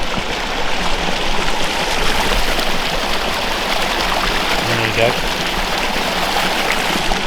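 The Vire river, a small stream in flood, rushes steadily and fairly loud as a constant watery roar, with a brief voice speaking over it partway through.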